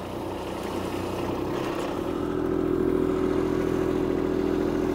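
A tractor stuck on a severe incline in a ditch, in four-wheel drive with the diff lock held, its engine laboring steadily and rising in pitch and loudness as the wheels spin and it climbs out.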